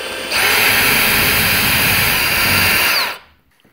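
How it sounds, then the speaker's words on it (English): A power drill bores a hole into a door to mount a bathroom robe hook bracket, a loud, continuous high whine lasting about three seconds before abruptly spinning down, with no voices. "We place our drill bit and we make our hole."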